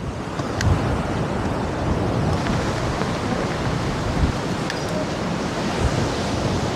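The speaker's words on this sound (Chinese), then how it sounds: "这里真的很大风，还有很多海鸥啊" Strong wind and sea waves at the Blackpool seaside make a loud continuous rushing roar with gusty microphone buffeting throughout.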